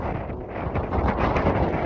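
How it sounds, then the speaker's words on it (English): Strong wind in Iceland roars steadily across the microphone, a loud continuous buffeting rush with gusts swelling toward the end and no voices. "it was super windy that we had to lean forward to fight it"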